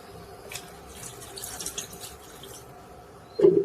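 Water is poured into a pot of vegetable ragi soup on the stove. A soft kitchen hiss gives way to a short, louder splash of pouring at the very end.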